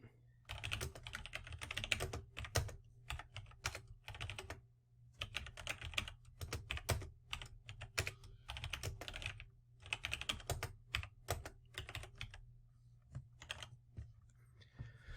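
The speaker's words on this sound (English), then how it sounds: "So let's go ahead and type these out." Steady typing on a computer keyboard, close and clear, with bursts of rapid key clicks separated by short pauses while code is entered.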